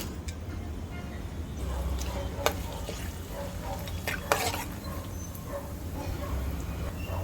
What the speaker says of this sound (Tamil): இப்போ எண்ணெய் ஹீட் ஆகிடுச்சு. இதில் பட்டை, ஏலக்காய், கிராம்பு, அன்னாச்சிப்பூ, பிரியாணி இலை இது எல்லாத்தையும் நம்ம இதில் போட்டுடலாம்.